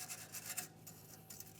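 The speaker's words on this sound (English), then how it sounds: "Just going to continue on with our wire brush." A wire brush scrubs the brake hose mounting brackets on the front strut of a 2008-2017 Mitsubishi Lancer, making faint, quick rasping strokes in short bursts with brief pauses.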